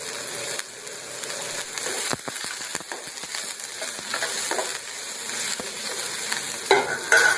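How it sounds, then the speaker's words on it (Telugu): Garlic cloves frying lightly in oil for a stuffed brinjal curry, a soft steady sizzle broken by scattered scraping clicks of stirring, with no talking. "దీన్ని కూడా ఇలా ఆయిల్లో ఫ్రై చేసుకున్నాం లైట్గా పచ్చివాసం పోయేదాకా"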